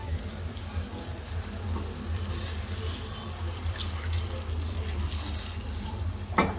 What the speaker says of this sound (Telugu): ఈ టైంలో మనం వాటర్ వేసేసుకుందాం.